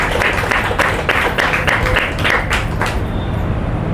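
An audience at a spiritual gathering in Mumbai breaks into loud, dense applause, many hands clapping together up close for a few seconds before it starts to thin out.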